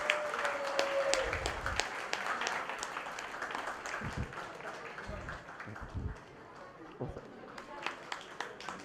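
An audience applauds at a Ganesh festival stage event, giving a scattered clapping that thins out as a voice speaks over it.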